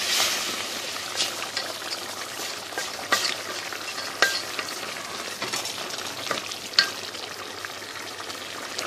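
Rice stirred in broth in a pot for fluffy white rice, a utensil scraping and knocking against the pot in scattered strokes over a low bubbling hiss, moderately quiet and close.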